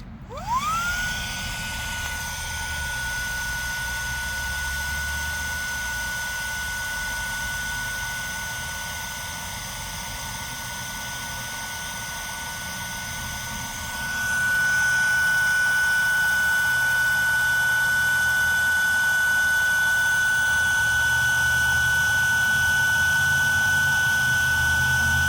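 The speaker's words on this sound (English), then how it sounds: "we'll turn it on, and you can see just how quick this will actually deflate this thing" A Fanttik X9 Cross battery-powered pump deflating an inflatable board: a whining motor spins up fast, holds a steady tonal drone, then revs a little louder and keeps running, near and with no talk.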